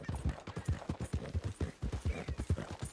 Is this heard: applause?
no